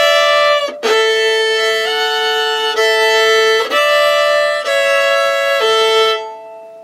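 A fiddle plays Fire on the Mountain in a shuffle bow pattern, clear and close with sustained bowed notes changing every second or so, played alone until it stops near the end.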